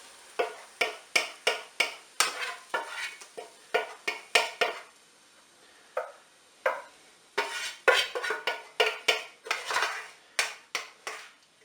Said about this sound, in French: je vais pouvoir verser dans le plat mes champignons et mes oignons cuits